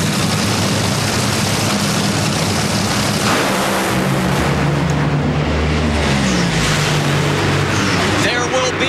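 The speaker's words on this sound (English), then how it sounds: "There will be no new national record, although Tony Schumacher goes 4:46 with a 4" NHRA drag racing car making a run at the 2003 CarQuest Auto Parts Nationals in Chicago, a loud sustained engine roar with a falling pitch as it passes, under an announcer talking throughout.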